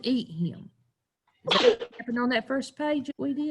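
A single sharp sneeze bursts out during a small-group classroom storytelling session, set between stretches of close conversational speech.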